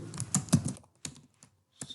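Keys clatter in short bursts on a computer keyboard while HTML list code is entered, with quick clusters of taps, a pause, then a few more strokes.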